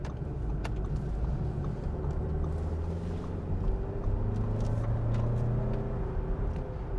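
A 2020 Audi Q3 Sportback 2.0 TFSI quattro S tronic S line driving twisty roads, heard from inside as a low steady engine and road rumble with mild rises in revs, moderately quiet and without talk.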